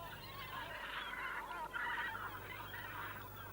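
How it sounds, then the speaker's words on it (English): A great black-backed gull gives harsh, honking calls on a small island in the nesting season, several hoarse cries run together at moderate distance against a low background hum. "The largest is the greater blackback, a powerful predator of other birds' eggs and young"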